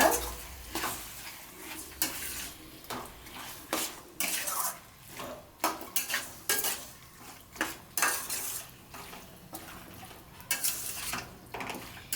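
A spoon scrapes and knocks steadily against a pan while chicken gravy is stirred, a series of irregular metallic clinks and scrapes with a soft sizzle underneath and no talking.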